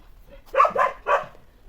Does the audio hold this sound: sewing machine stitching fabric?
no